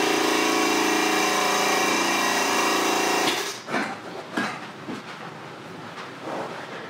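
A cheap no-brand airbrush compressor plugged into a wall socket runs with a loud, steady buzzing hum, then cuts off abruptly after about three seconds, leaving faint handling noises.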